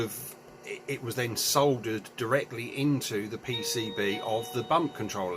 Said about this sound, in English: that's our doorbell, hopefully the wife's got that